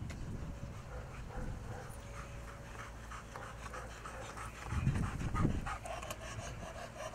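Belgian Malinois panting in quick, steady breaths close by, with a louder burst of huffing and small whimpers near the end, with no talking.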